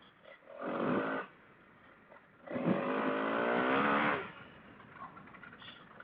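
A Honda CRF250L dual-sport motorcycle ridden off-road, engine rising in two bursts of revving, the second longer with a climbing tone, between quieter idle stretches.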